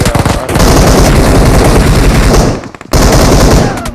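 Rapid automatic gunfire from PUBG Mobile, loud and close, in two sustained bursts with a brief gap between them.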